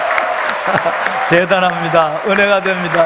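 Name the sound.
congregation applauding in church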